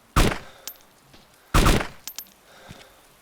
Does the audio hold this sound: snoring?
no